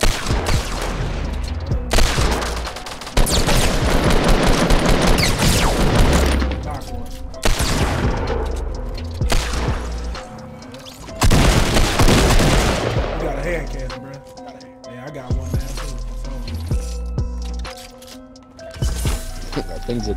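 Loud bursts of heavy hand cannon gunfire in Fortnite crack and boom in rapid clusters, separated by short pauses, with voices talking over the shooting.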